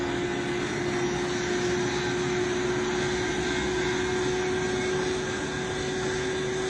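A remote control motorcycle's small motor runs with a steady, high-pitched buzzing whine, continuous and even in level for several seconds, with no talking over it.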